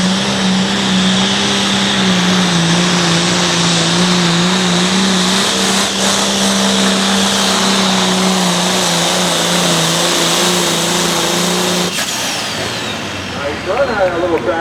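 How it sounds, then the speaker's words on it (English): Buzzard Bait East Coast 466 pulling tractor roaring at full power during a championship pull, a loud sustained engine drone with a steady pitch that drops off near the end, crowd and announcer voices under it. "this is the Buzzard Bait East Coast 466 tractor"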